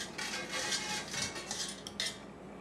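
Cooked pasta is stirred together with ricotta in a bowl for baked ziti, producing close, soft scraping and clinking of a utensil against the bowl in quick irregular strokes.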